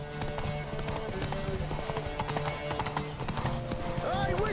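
A mare galloping in The Witcher 3: Wild Hunt, fast rhythmic clip-clop of hooves throughout with a brief whinny near the end, under a spoken voice.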